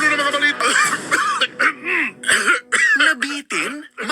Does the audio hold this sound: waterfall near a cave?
no